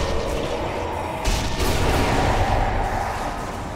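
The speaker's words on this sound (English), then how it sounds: "Very satisfying grenade that was." A grenade goes off in the zombie shooter game Sniper Elite: Nazi Zombie Army, a loud, sustained rumbling blast that swells partway through and rolls on without pause.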